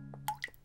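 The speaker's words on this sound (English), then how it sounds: "Oh, what is that dripping sound?" Water drips from a tap that was left running, giving two or three close, clear plinks over a low steady hum.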